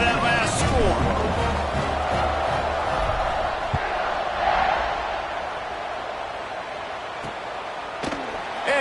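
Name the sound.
football stadium crowd buzzing after a score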